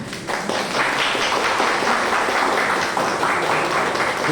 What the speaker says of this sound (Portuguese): pedir uma salva de palmas para o Menezes